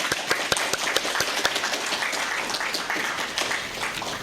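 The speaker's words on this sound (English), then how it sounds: "So yeah, a little applause" A small audience at an archaeology lecture applauds Stephen with a modest, steady patter of clapping, a few louder individual claps standing out early, moderately distant and even throughout.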